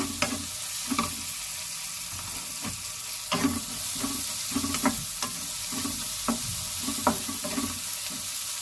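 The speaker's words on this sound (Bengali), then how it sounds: "রসুনটা দিয়ে একটু ভালো করে ভেজে নেব" Garlic sizzling in hot oil with browned onions in a pan for a prawn biryani, a steady frying hiss broken by repeated scraping stirs of a spatula at an irregular, unhurried pace.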